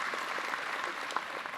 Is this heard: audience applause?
yes